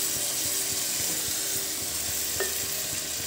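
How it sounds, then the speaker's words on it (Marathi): Hot water goes into a pot of rice for soybean pulao, a close, steady sizzle and watery splash, with light stirring clicks in a regular rhythm. "आता यामध्ये आपल्याला पाणी घालून घ्यायचं आहे।"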